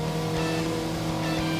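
A race car brakes and downshifts to third at Bathurst in a racing sim, its engine a loud steady drone with layered harmonic tones and no talking.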